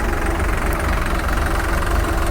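Swaraj 744 XT and New Holland 3600 tractor engines idle side by side, a steady, loud, continuous diesel rumble with a low throbbing pulse and no voices.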